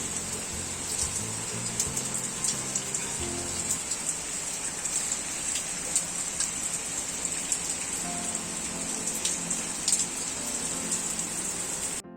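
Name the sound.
rain falling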